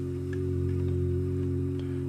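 Keyboard chords ring out dry with no effects, a steady sustained low-to-mid chord held close and even throughout, with faint clicks over it.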